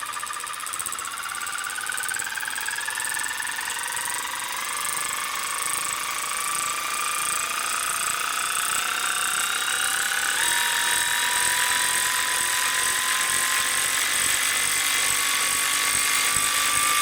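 Parkside PARP 20-Li A1 cordless ratchet running continuously, a high whining motor tone that climbs in pitch as it speeds up, steady and close, with no talk.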